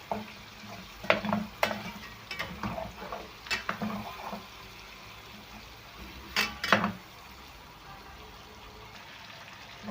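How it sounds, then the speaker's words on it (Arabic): Chicken with spices and crushed garlic being stirred in a pan, a soft background sizzle broken by several scraping spoon strokes and clinks against the pan, clustered early, then a pause and a final pair of strokes. "ونقلبها برضو مع الفراخ كده. نفضل نقلب فيهم لما ياخدوا نكهة البهارات والثوم مع بعض"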